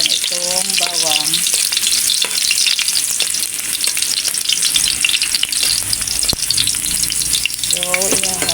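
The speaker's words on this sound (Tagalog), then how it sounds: "Haluin na natin until na mag-golden brown itong bawang." Garlic fries in a pan toward golden brown, a loud, dense, continuous sizzle and crackle heard close up, with occasional stirring scrapes and no talking over it.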